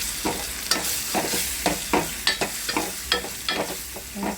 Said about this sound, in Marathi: यामध्ये आपला हा टॅमॅटो टाकायचा आणि भाजून घ्यायचा।